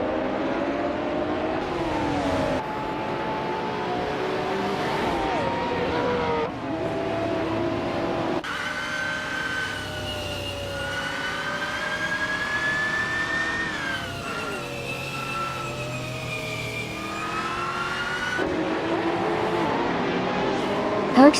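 Race car engines roar continuously through a race, their pitch rising and falling as the cars accelerate and shift, with a dense, steady drone that never drops out.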